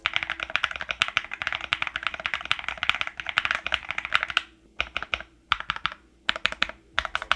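Rapid typing on a Keychron Q Ultra ZMK wireless mechanical keyboard, heard up close: a dense, steady run of clacking keystrokes that breaks into short bursts separated by brief pauses near the end.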